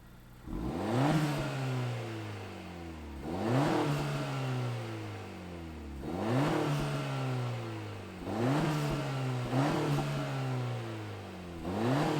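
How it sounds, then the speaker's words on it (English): A 2022 Honda Civic Si engine revs repeatedly, rising and falling in several strong pulls through the gears, heard from outside, no talking. "let's fire it up and hear what it sounds like."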